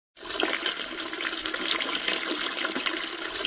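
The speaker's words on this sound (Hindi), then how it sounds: "कुछ पानी गिरने जैसा आवाज आ रहा" A toilet flushes with a sudden start, rushing and gurgling water pouring steadily at close range, fairly quiet overall and continuing without a break to the end.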